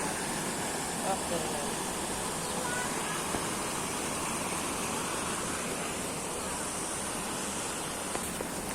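A waterfall rushes beside a 2,500-year-old stone bridge at Clandras near Uşak, producing a steady, dense roar of falling water that stays even and unbroken throughout, close and fairly loud, with no talking.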